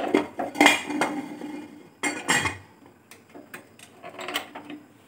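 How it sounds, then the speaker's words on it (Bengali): A cake saucepan is set down on a gas stove and its metal lid is handled, producing a run of sharp clanks and clinks in bursts, close and fairly quiet, with short pauses between them. "কেকের সসপ্যানটা আমি এখানে বসিয়ে দিলাম।"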